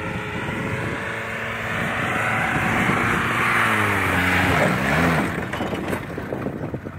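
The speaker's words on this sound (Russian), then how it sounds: "Попытка Нивы заехать." A Lada Niva strains while trying to climb off-road. Its engine revs loud and sustained, rising and wavering in pitch over several seconds before easing off, and there is no talk.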